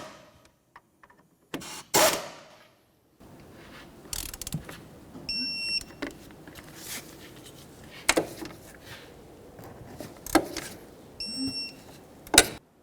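Bolts on a 2005-2012 Volvo S40 front wheel hub are run down and torqued to 88 foot-pounds, with ratchet clicks, sharp metallic bursts and repeated electronic beeps from the tool between quiet pauses.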